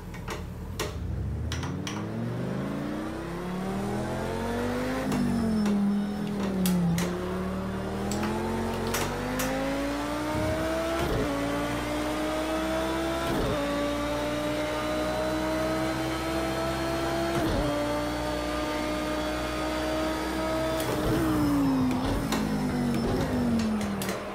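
A race car lapping in Project Cars 2, its engine note climbing and dropping through gear shifts, loud and continuous, with sharp ticking clicks along the way and no talk.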